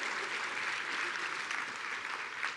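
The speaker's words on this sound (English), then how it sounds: "Let's clap it up for them." An audience at an interfaith intercultural breakfast applauds the event organizers, a steady, even wash of many hands clapping at once, heard from a middle distance and unbroken for the whole stretch.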